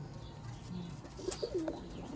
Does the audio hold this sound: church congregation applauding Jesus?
no